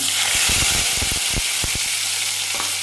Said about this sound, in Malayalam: കടുക് പൊട്ടിയാൽ അരച്ചു വെച്ച പേസ്റ്റ് ഇടാം